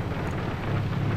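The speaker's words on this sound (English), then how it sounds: "Okay, so now we have rain" Rain in the aircraft game Bomber Crew, a steady broadband hiss of rainfall over a low droning hum, brief and even with no talking.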